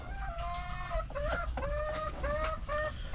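Dekalb Brown laying hens cluck close by at feeding time, a rising and falling run of short calls over a steady low farmyard hum.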